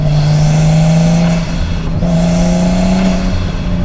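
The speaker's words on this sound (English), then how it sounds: "Right now the car's running about a bar of boost." Nissan R33 Skyline engine running at about one bar of boost, a steady loud droning hum with a faint whir above, sustained for the whole stretch with no talk.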